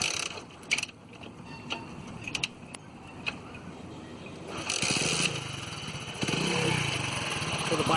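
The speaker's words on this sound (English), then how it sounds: "So the bike has started." A kick-started motorcycle engine catches and settles into a steady idle, its low rumble growing louder and continuous in the second half after some earlier clicks and rattles.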